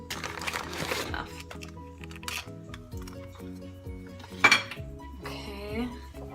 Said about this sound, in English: Okay, and I just stir it up.